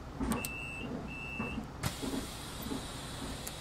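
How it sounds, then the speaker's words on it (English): Vehicle noise from a Solaris articulated bus in the OMSI bus simulator game, a steady low engine rumble with brief whining electric tones and a sharp click partway through, no talking. "all I heard was a bus noise"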